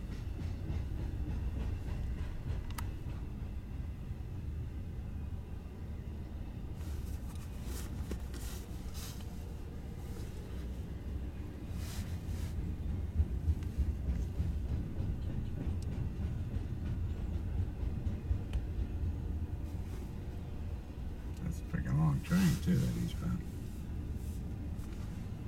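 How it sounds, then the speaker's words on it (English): A helper locomotive on a slow-moving freight train rumbles past at a distance, a faint continuous low drone with light rail clatter, while people talk quietly in places. "Helper engine. You can hear it."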